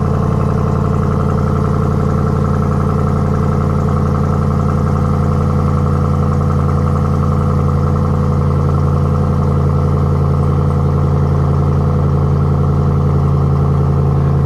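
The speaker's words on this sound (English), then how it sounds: "Man, it just sounds so smooth compared to the factory exhaust." A Ram TRX pickup truck with a deep AWE aftermarket exhaust idles loudly and steadily at close range, a smooth low burble with no talking.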